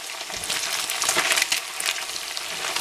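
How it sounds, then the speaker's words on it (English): Bacon fries in a pan, a close, steady crackling sizzle with bursts of popping fat, no talk. "See how crispy that bacon's getting"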